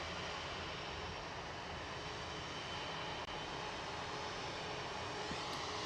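An Airbus A350-900 jet departs Manchester Airport for Singapore, a faint, steady, distant engine roar that holds evenly with a brief click midway.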